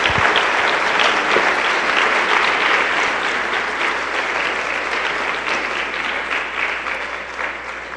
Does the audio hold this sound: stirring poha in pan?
no